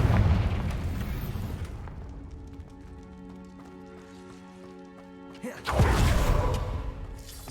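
Confringo fire spell explosion in Hogwarts Legacy, a heavy booming blast that fades into a ringing tonal hum before a second loud burst near the end; a voice shouts just before.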